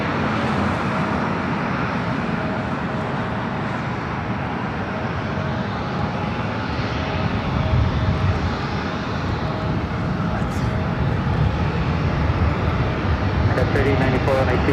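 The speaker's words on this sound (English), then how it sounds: "This arrival is American Airlines 1480 coming in from Honolulu on the A321 Neo" An American Airlines Airbus A321neo arriving from Honolulu rumbles past with a steady, broad engine roar, fairly loud and continuous, with a faint background hum and brief clicks near the end.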